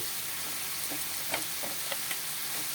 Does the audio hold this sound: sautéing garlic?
yes